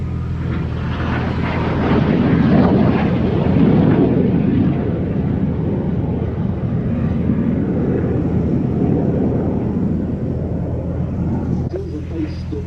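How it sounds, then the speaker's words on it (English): Two aircraft fly in toward the crowd at an RAF Mildenhall airshow, a loud, steady, broadband roar that holds for most of the stretch and eases slightly near the end, with voices talking over it. "Now in come the 2 aircraft towards us for a break."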